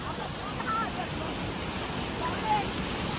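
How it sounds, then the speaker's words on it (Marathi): A waterfall at a crowded Sunday rain-season outing spot, heard as a steady broadband rush of falling water that stays even throughout, with faint voices of people mixed in. "इथे धबधबा आहे पाहू शकता"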